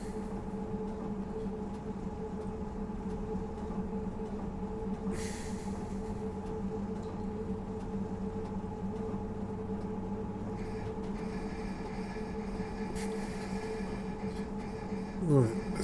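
Steady train running hum from Train Simulator Classic on the London Victoria to Tonbridge route, with tonal whines and rumble, faint hissing bursts near five and thirteen seconds and a brief squeal at the end.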